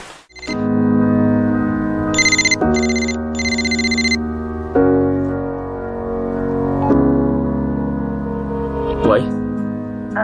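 A telephone rings in three quick bursts of a bright electronic trill, heard over sustained music-like tones.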